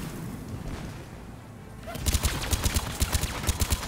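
Rapid gunfire from a gun in the video game Mass Effect 3 breaks out after a stretch of low rumbling ambience, a fast regular string of loud shots over continuing background noise.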